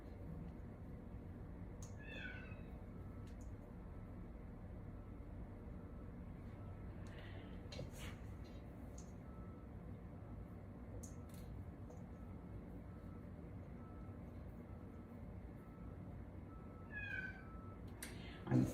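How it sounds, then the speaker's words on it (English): A cat shut in a basement meows a few times, faint and muffled at a distance, with short cries spread apart over a low steady household hum. "I'm thinking my daughter locked the cat in the basement."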